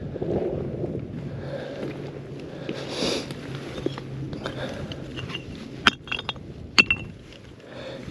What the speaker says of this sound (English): Maybe I can clink a couple of rocks together for you.